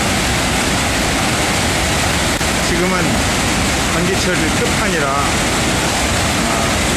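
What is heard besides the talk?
Victoria Falls waterfall in the dry season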